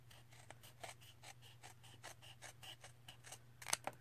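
Scissors snip paper for a junk journal tag: a quick run of soft, close, rhythmic cuts in a quiet room, ending in a sharper final snip or two, with no voices.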